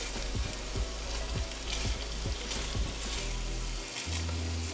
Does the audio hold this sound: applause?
no